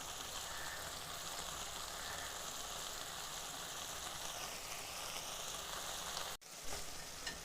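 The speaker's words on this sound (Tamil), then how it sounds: "தக்காளி, புளி, உப்பு எல்லாம் சேர்ந்து வதங்கட்டும்." Tomatoes, tamarind and salt sauté in sesame oil for a tomato pickle, giving a steady, dense sizzle that runs unbroken with a brief clatter near the end.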